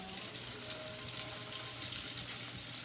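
Green tomatoes fry on a stovetop pan, a steady close sizzle and crackle running unbroken and fairly loud with no talk over it.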